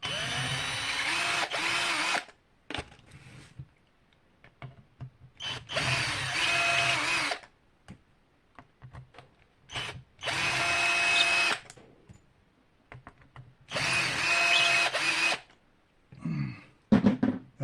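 A power drill bores holes in repeated bursts of a few seconds each, separated by quiet pauses, with a short burst and a clatter at the end.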